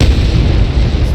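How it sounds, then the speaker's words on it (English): Explosion sound effect from Unreal Engine starter content, a loud, deep booming blast with a heavy rumbling body that fills the whole brief moment. "explosions"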